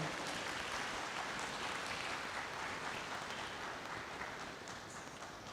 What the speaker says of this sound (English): A big round of applause to our esteemed speaker, Dr. Nuwan Abdul Hannan.